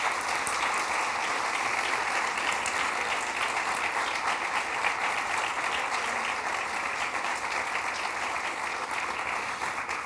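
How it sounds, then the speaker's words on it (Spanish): A large audience gives sustained, dense applause at the opening of a cultural week lecture, steady and even throughout with no voices. "Un fuerte aplauso de agradecimiento"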